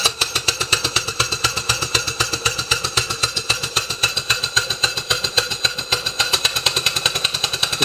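A small Stuart model steam engine runs steadily, its rapid, even chuffing beat repeating close and clear for the whole stretch with no voices.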